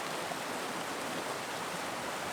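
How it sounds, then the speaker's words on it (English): Small mountain waterfalls tumbling in an autumn trout stream, a soft, even rushing hiss with no other sounds. "These small falls were really cool"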